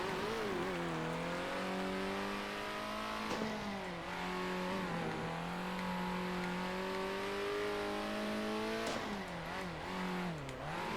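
A race car engine in Circuit Superstars revs steadily and loud throughout, its pitch rising and dipping as the car drifts through dusty corners, with faint tire noise underneath.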